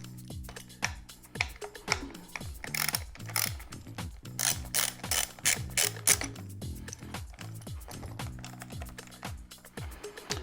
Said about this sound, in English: Now we're gonna wanna take our 6mm ratchet and we're gonna undo these little bolts